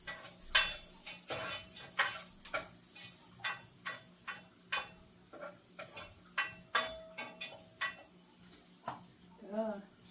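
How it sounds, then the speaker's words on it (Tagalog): Labong (bamboo shoots) being sautéed in a pan with a spoon, giving repeated sharp scrapes and clacks in an irregular stirring rhythm over a soft sizzle, up close, with a few brief voice sounds. "Gisa-gisa muna tayo."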